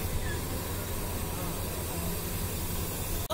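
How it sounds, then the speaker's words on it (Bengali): The Intercity Tista Express rolls into Piyarpur railway station on a rainy day, heard as a steady broadband hiss and rumble of the train with a brief sharp click near the end. "পাঁচটা 45 মিনিটে আন্তনগর তিস্তা এক্সপ্রেস চলে আসলো পিয়ারপুর রেলওয়ে স্টেশনে"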